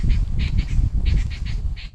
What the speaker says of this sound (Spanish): Hay música en el canto de las aves